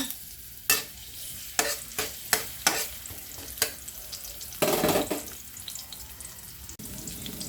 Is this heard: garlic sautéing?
yes